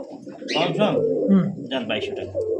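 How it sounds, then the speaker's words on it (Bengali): A male and a female high flyer pigeon coo in low, throaty phrases close by while someone talks over them. "এটা হচ্ছে নর কবুতর আর এইটা হইতেছে মাদি কবুতর"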